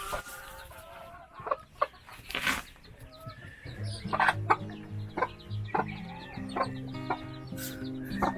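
Hens clucking and chicks peeping close by, with soft rustling and a couple of wing flaps scattered through, including Ethiopian-breed chickens.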